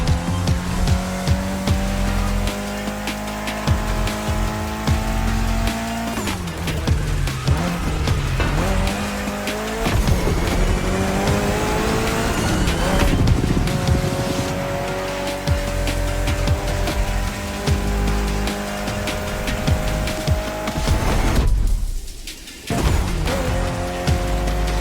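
Mitsubishi Lancer Evo X racing in The Crew Motorfest, engine revving hard through gear changes with repeated tire squeals and skids, loud and close, a brief dip near the end before the engine roars back.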